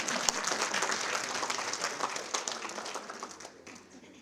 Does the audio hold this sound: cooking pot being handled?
no